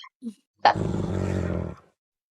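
A Minecraft wolf growls in a one-block skyblock game, one close, loud rumbling burst of about a second, preceded by a short faint sound.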